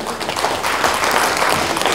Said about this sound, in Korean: 큰 박수를 보내주시면